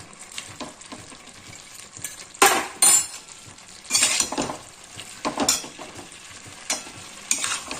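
Chicken chatpata with onion greens is stir-fried in a pan, with steady sizzling and repeated scraping and clinking of a spatula against the metal, loud bursts at irregular intervals.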